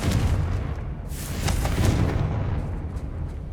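Fiery explosions from the Confringo spell in Hogwarts Legacy, a dense rumbling barrage of booms and crackling bursts that swells around the middle and keeps rolling for the whole stretch.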